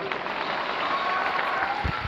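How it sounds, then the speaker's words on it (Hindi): Brief burst of audience applause at a gathering, steady clapping from a crowd with a couple of low thumps near the end. "जोरदार तालियां।"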